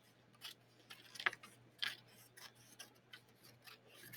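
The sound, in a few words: cutting a weaving strip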